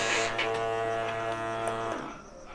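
Several electric hair trimmers, Mi and Realme models, buzz together with a steady mechanical hum, then the drone drops as they wind down near the end.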